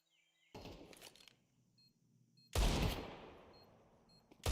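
Two heavy Desert Eagle pistol shots in a competitive video game match, each a loud, sharp blast followed by a decaying echo, spaced about two seconds apart with near silence between.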